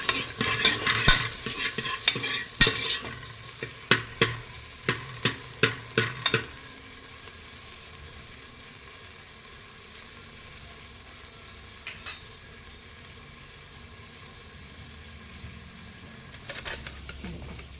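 Onion and ginger garlic paste fry in a pan as a spatula clacks and scrapes in quick repeated strokes over a soft sizzle, then the stirring stops, leaving a quiet simmer and a few stray knocks.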